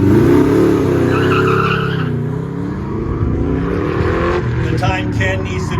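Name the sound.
1965 Corvette with small block engine and side pipes racing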